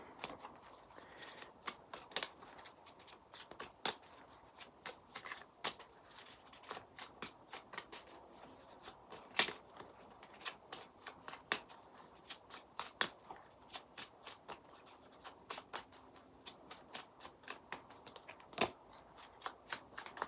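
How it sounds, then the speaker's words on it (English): Energy oracle cards are shuffled over and over, giving crisp riffling flicks and sharp slaps in a steady, quick rhythm, close and clear, with no voices. "I'm gonna pull some energy cards real quick."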